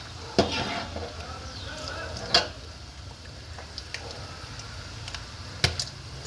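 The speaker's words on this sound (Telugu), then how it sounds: "జీలకర్ర ఆవాలు కొంచెం తక్కువ వేసుకుంటున్నాను" Cumin and mustard seeds sizzle in hot frying oil, a steady close crackle broken by a few sharp pops and spits, with no talking.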